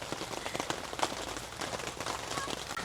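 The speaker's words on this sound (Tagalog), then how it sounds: "Umuulan na dito sa campsite." Rain falls steadily at a campsite in Tanay, Rizal, a close, continuous patter of drops striking surfaces around a tent, with scattered sharper taps throughout the short stretch.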